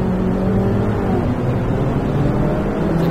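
Turbocharged BMW race car in the Assetto Corsa racing game, its engine droning loud and steady throughout with a dense mechanical roar and no pauses.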